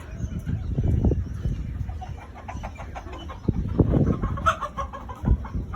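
Chickens clucking on an integrated farm in Dubai that also keeps ducks, sheep and goats, with several birds calling in irregular close bursts over steady low barnyard background noise.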